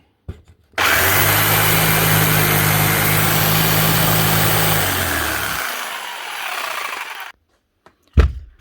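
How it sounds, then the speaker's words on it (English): A Makita 4329 jigsaw cuts slowly, its motor whining steadily and loudly for about six seconds before spinning down, followed by a short knock at the end. "it's definitely not a quick jigsaw anyway. That's not cutting very fast at all"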